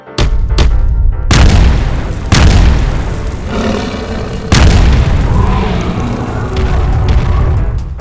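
A tank cannon fires in several heavy booms, each a loud, deep blast followed by a rolling roar, with about four shots spaced a couple of seconds apart.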